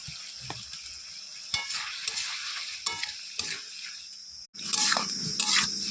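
Snake gourd fried in a pan for a mustard-paste curry, sizzling steadily while a spatula stirs and scrapes in repeated strokes; a brief pause, then a louder burst of frying and stirring.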